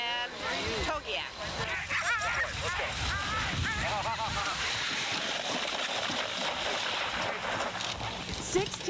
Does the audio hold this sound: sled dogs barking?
yes